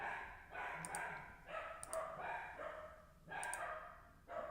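Dogs barking somewhere in the background, a run of repeated barks in uneven clusters, distant and faint, going on without pause.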